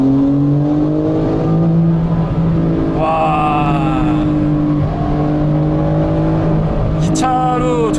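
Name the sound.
Porsche 992 911 Carrera 4S engine revving in sport response mode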